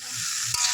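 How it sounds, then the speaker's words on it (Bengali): Raw mango frying in oil in a kadai over a clay stove hisses with a steady sizzle while a spoon stirs and scrapes once against the pan. "তেল দিয়ে প্রথমে আমটাকে ভালো করে একটু কষিয়ে নিতে হবে, ভাজা ভাজা করে নিতে হবে।"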